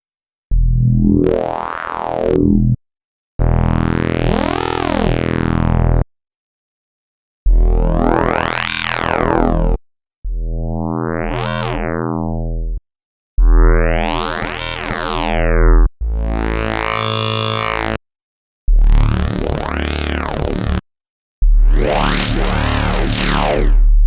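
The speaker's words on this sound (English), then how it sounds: "holograms, the way I describe them is sizzling and harmonically rich." A series of separate wavetable synth tones, each buzzing and harmonically dense with a sizzling edge, sweeping in pitch and separated by short silences.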